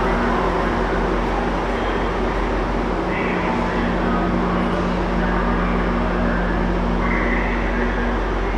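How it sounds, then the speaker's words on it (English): Large generator at a train station, a loud, steady low mechanical hum and drone running unbroken throughout, close by, with faint background noise layered over it. "like a big generator that way. It's pretty loud."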